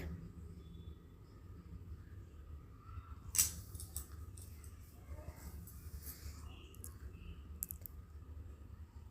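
A knife chopping banana flower into small pieces, faint and close, with quiet, irregular clicks and cuts over a low background hum and one sharper snap partway through.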